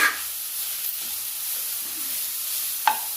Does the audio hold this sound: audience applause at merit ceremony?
no